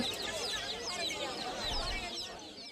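Chicks peep and cluck in a dense, continuous chorus at the Kolkata bird market on Galiff Street, close and steady, with a busy market hubbub underneath.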